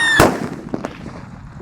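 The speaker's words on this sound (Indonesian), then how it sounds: "ada mercon Pearl Thunder guys yang akan kita masukkan di lubang tanah" A Pearl Thunder firecracker goes off inside a hole dug in the ground, one sharp loud bang followed by a few fainter pops and crackles that die away quickly.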